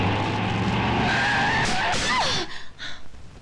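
A car skids as its brakes are slammed on, a loud tire squeal over engine noise that ends abruptly in a few uneven thuds and scrapes as it stops.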